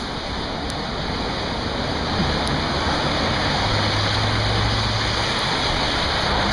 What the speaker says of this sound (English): Yeah, I know, shocker, it's Seattle and it's raining.